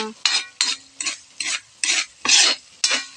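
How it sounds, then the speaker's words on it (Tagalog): A spoon stirs a vegetable filling for lumpia in a pan, making seven loud, evenly spaced scraping strokes over a faint sizzle, close up and with no talking. "Halo-halo lang po tayo."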